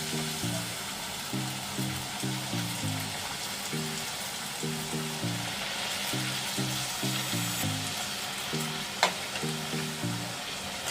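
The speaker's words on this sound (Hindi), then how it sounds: "तेल गरम हो गया है, इसे डाल के पापड़ बना लेते हैं" Maida papdi fries in hot oil with a steady, dense sizzle, while a repeating melodic tune plays underneath and a single sharp click sounds near the end.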